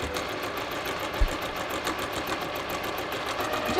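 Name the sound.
sewing machine stitching quarter inch seam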